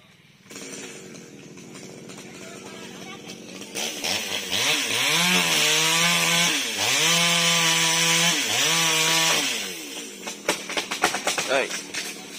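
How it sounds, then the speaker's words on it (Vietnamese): A chainsaw drones and whines, rising and falling as it bites into a mango tree branch, loud and close, then sputters off amid rustling and clattering. "anh cưa cái nhánh đó dưới đó các bạn"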